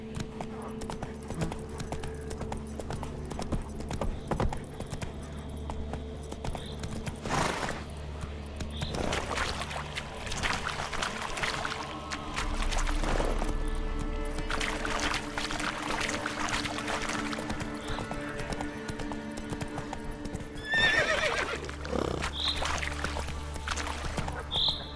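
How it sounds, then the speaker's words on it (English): Horse trotting in the video game The Witcher 3, a steady clip-clop of hooves carrying through the whole stretch over low ambient game sound, with no clear neigh standing out. "Whoa there, Roach"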